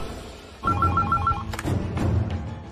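A telephone rings in a dramatic indoor scene as a call to the police goes out, a short trilling ring pattern that starts abruptly and repeats once before giving way to fainter clatter.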